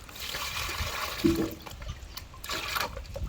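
Hot water poured from a container into an empty pot in an outdoor setting in Benin, a steady splashing pour that runs the full length with a brief louder gush near the middle.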